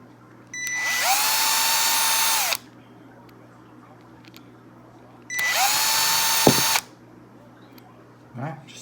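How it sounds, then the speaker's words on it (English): A power drill spins clutch plate parts during an off-road drag build, two separate bursts of high whirring, each revving up, holding for about two seconds and stopping, with quiet gaps between. "I'm going to get the drill. And I'm going to spin them."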